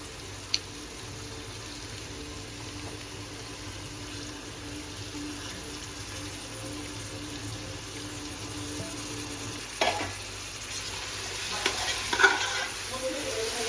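Chopped mint and coriander are stirred into onion and ginger-garlic paste in a pan for seeraga samba mutton biryani, giving a steady, fairly quiet sizzle with soft scraping and a few small knocks near the end.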